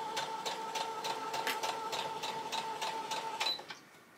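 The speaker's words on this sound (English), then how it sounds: "So lining up as close as possible and then just sewing." Sewing machine stitching fabric for a zipper pencil pouch, a steady fast rhythmic whirring with regular needle pulses, fairly quiet and close, stopping near the end.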